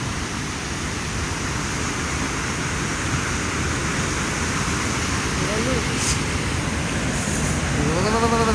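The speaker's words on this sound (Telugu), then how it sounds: "చూసారా గైస్, ఎత్తిపోతల వాటర్ ఫాల్స్ అంటే ఇట్లుంటుంది" Ethipothala waterfalls pour as a broad, constant rush of water, loud and unbroken throughout, with faint whistling tones and a short higher hiss drifting over it toward the end.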